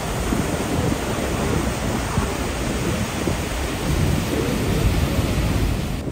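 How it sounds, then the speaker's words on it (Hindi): Niagara Falls thundering in a steady, dense roar of falling water, loud and unbroken throughout with no voices. "इधर से काफ़ी दूर से पानी फ्लो करता हुआ आ रहा है और इधर जो है उधर गिर रहा है पानी"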